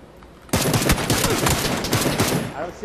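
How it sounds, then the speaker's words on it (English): Sustained automatic gunfire in the battle royale game PUBG bursts in abruptly after a quiet moment, then continues as a loud, rapid stream of close shots. "He just shot at me. I just shot at him."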